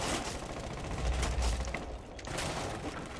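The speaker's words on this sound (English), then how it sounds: "They're shooting out the windows to try and open lines of sights" Rapid gunfire in Rainbow Six Siege shoots out windows, a dense burst of shots with glassy crackle, fairly distant and muffled, continuing across the moment without speech.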